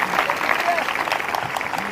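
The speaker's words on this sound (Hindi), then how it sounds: "फिर से एक जोरदार ताली बजाकर धन्यवाद दें" A crowd at a church prayer service breaks into loud, steady applause that fills the whole two seconds, with voices mixed into the clapping.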